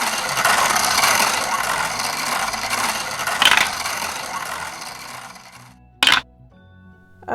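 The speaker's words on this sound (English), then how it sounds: "it's time to spin the bingo wheel" A bingo wheel spun by hand, a long rattling, clattering whir that slowly winds down over several seconds, followed by a sharp knock and then near silence.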